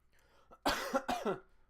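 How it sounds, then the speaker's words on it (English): A person coughs twice in quick succession, close and fairly sharp, with a faint throaty rasp between the bursts against an otherwise quiet room. "Apparently I'm coughing again."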